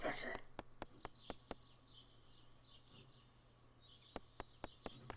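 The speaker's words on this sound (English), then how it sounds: "Oh, there's the woodpecker." A woodpecker in Stardew Valley hammers a tree in sharp, evenly spaced knocks, a quick burst at the start and another near the end, over faint chirping birdsong and a quiet game backdrop.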